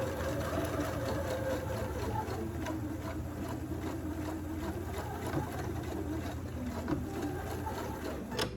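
A sewing machine stitches a waistband with a steady, continuous motor whir and rapid needle chatter, running evenly at moderate loudness for the whole stretch without any voices.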